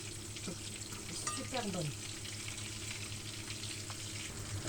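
Sardines fry in a pan with a soft, steady sizzle and a brief stir, heard close and fairly quiet, while someone speaks a few words over it.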